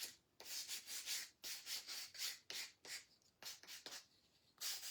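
Close, steady strokes of sandpaper rubbing a wooden Scrabble tile, in quick back-and-forth bursts with short pauses between them and no talk.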